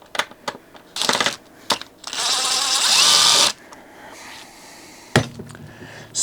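Power tool bursts and a sustained whirring drill run at close range while removing the carburetor from a Homelite 330 chainsaw, with short clicks and handling noises between the runs.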